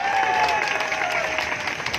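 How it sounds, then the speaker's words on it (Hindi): A crowd at a political rally applauds in a brief continuous burst, with light cheering mixed in and a faint sustained tone running through it. "ठोको ताली"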